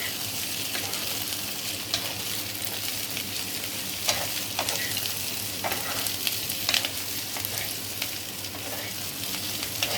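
Chilli paneer with capsicum, onion and green chillies sizzles steadily in a hot pan, broken by soft scrapes and a few clinks as it is tossed, close and continuous, with no talking.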